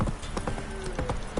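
Horse hooves clip-clop at a steady trot in The Witcher 3, a run of crisp, fairly close hoofbeats with no talk over them.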